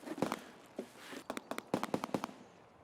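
Distant gunfire in Escape from Tarkov, a rapid string of sharp cracking shots including pistol fire, popping in irregular bursts across an open area with no talk over it.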